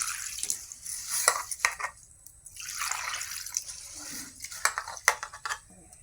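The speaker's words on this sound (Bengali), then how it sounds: "প্রথমে আমি চালটা ভিজিয়ে রাখবো।" Rice for chicken biryani is soaked in water in a home kitchen: water splashes and trickles, a pot and utensils clink and scrape in short irregular bursts, and no one speaks.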